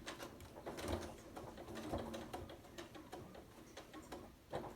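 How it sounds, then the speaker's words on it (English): A sewing machine stitches fabric slowly and carefully, making a faint, rapid mechanical ticking and clatter that goes on steadily throughout with no talk. "I'm going to carefully stitch beside my pin until I get close to the head"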